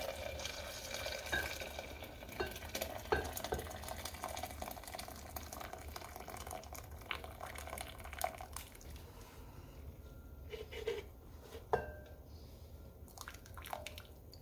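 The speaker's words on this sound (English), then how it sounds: "I'm going to drain this water into this Pyrex measuring cup." Hot water pours and trickles steadily into a Pyrex measuring cup, drained from cooking Yukon Gold potatoes, with faint splashing and a few clinks; no one talks.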